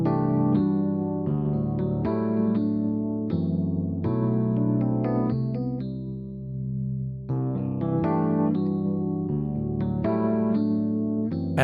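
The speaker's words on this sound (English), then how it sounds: "I added some reverb, I added a little phasing, a little chorus" Layered electronic tones with a swirling, shimmering chorus and phaser texture ring out under washy reverb, sustained chords shifting in a slow pattern.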